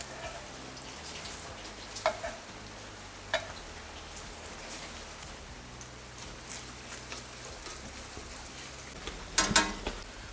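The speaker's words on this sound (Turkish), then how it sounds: "Kapağını kapat, tereyağı erisin." Butter melting in a covered pan gives a steady soft sizzle and crackle throughout, with a few brief louder clinks and bumps of utensils.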